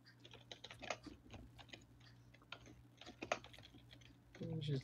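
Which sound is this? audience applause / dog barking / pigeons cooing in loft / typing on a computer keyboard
typing on a computer keyboard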